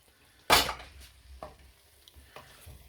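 Aubergine (bangan) being stirred into a potato curry in a pan with garlic: one loud scrape or clatter at the start, then a few softer stirring knocks over a low background.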